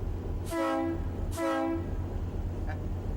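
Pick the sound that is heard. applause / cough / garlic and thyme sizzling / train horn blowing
train horn blowing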